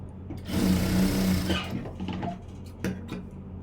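A sewing machine stitching blouse fabric runs in a loud, steady whirring burst for about a second, then slows into a few shorter, uneven stitching pulses and clicks, with no voices.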